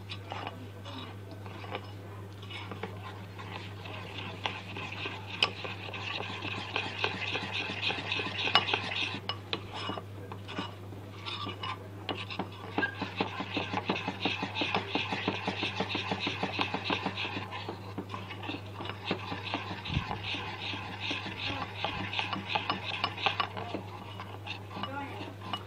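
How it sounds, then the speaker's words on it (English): A utensil stirs lumpy Jamaican rice porridge in a pot, making steady scraping and clinking strokes with short pauses over a constant low hum, with talk partly heard. "You stir till the lumps are out."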